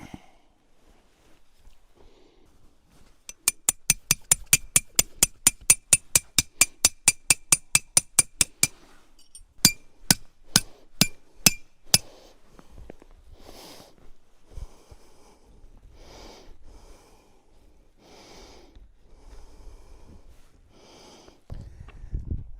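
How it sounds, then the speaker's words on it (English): A hammer drives metal tent stakes into rocky ground in a rapid run of sharp, ringing blows, then slower spaced hits, followed by quieter scuffing and thuds. "driving these stakes into the ground with that hammer is not"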